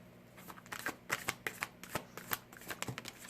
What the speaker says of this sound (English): If you don't like the shuffling, you can just fast forward and I'll meet you there.